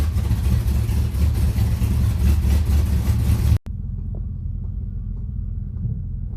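A 1970 Oldsmobile Delta 88 idles shortly after a cold start, its exhaust giving a deep, steady, slightly loping rumble close by, with a brief cut partway through before the low idle resumes.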